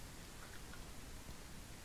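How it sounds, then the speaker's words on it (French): Rain-like hiss heard indoors in a house in Ranch Simulator: a faint, steady, even wash of noise like rain pattering on a roof, continuous and unchanging throughout. "on a l'impression qu'il pleut dans la maison avec le bruit là"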